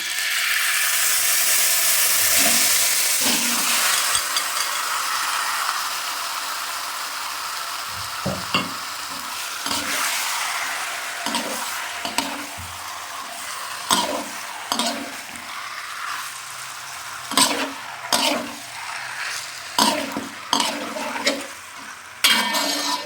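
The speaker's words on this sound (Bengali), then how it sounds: "এক ঘন্টা মেখে রাখা ম্যারিনেট করা মাংসটা আমি দিয়ে দিলাম।" Marinated chicken sizzles loudly in a pan with cloves, cinnamon, cardamom and mace, the steady frying hiss broken by repeated scraping stirs and clanks of a utensil against the pan toward the end.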